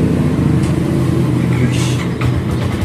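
Yamaha Sniper 150 motorcycle engine after a chassis repair, running close up with a loud, steady idle and a few short revs, no talk.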